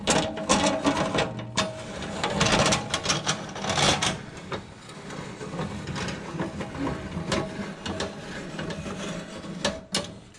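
A John Deere 726 snowblower part is turned by hand, giving a close run of mechanical clicks, ratcheting and grinding scrapes that continue steadily throughout without any talk.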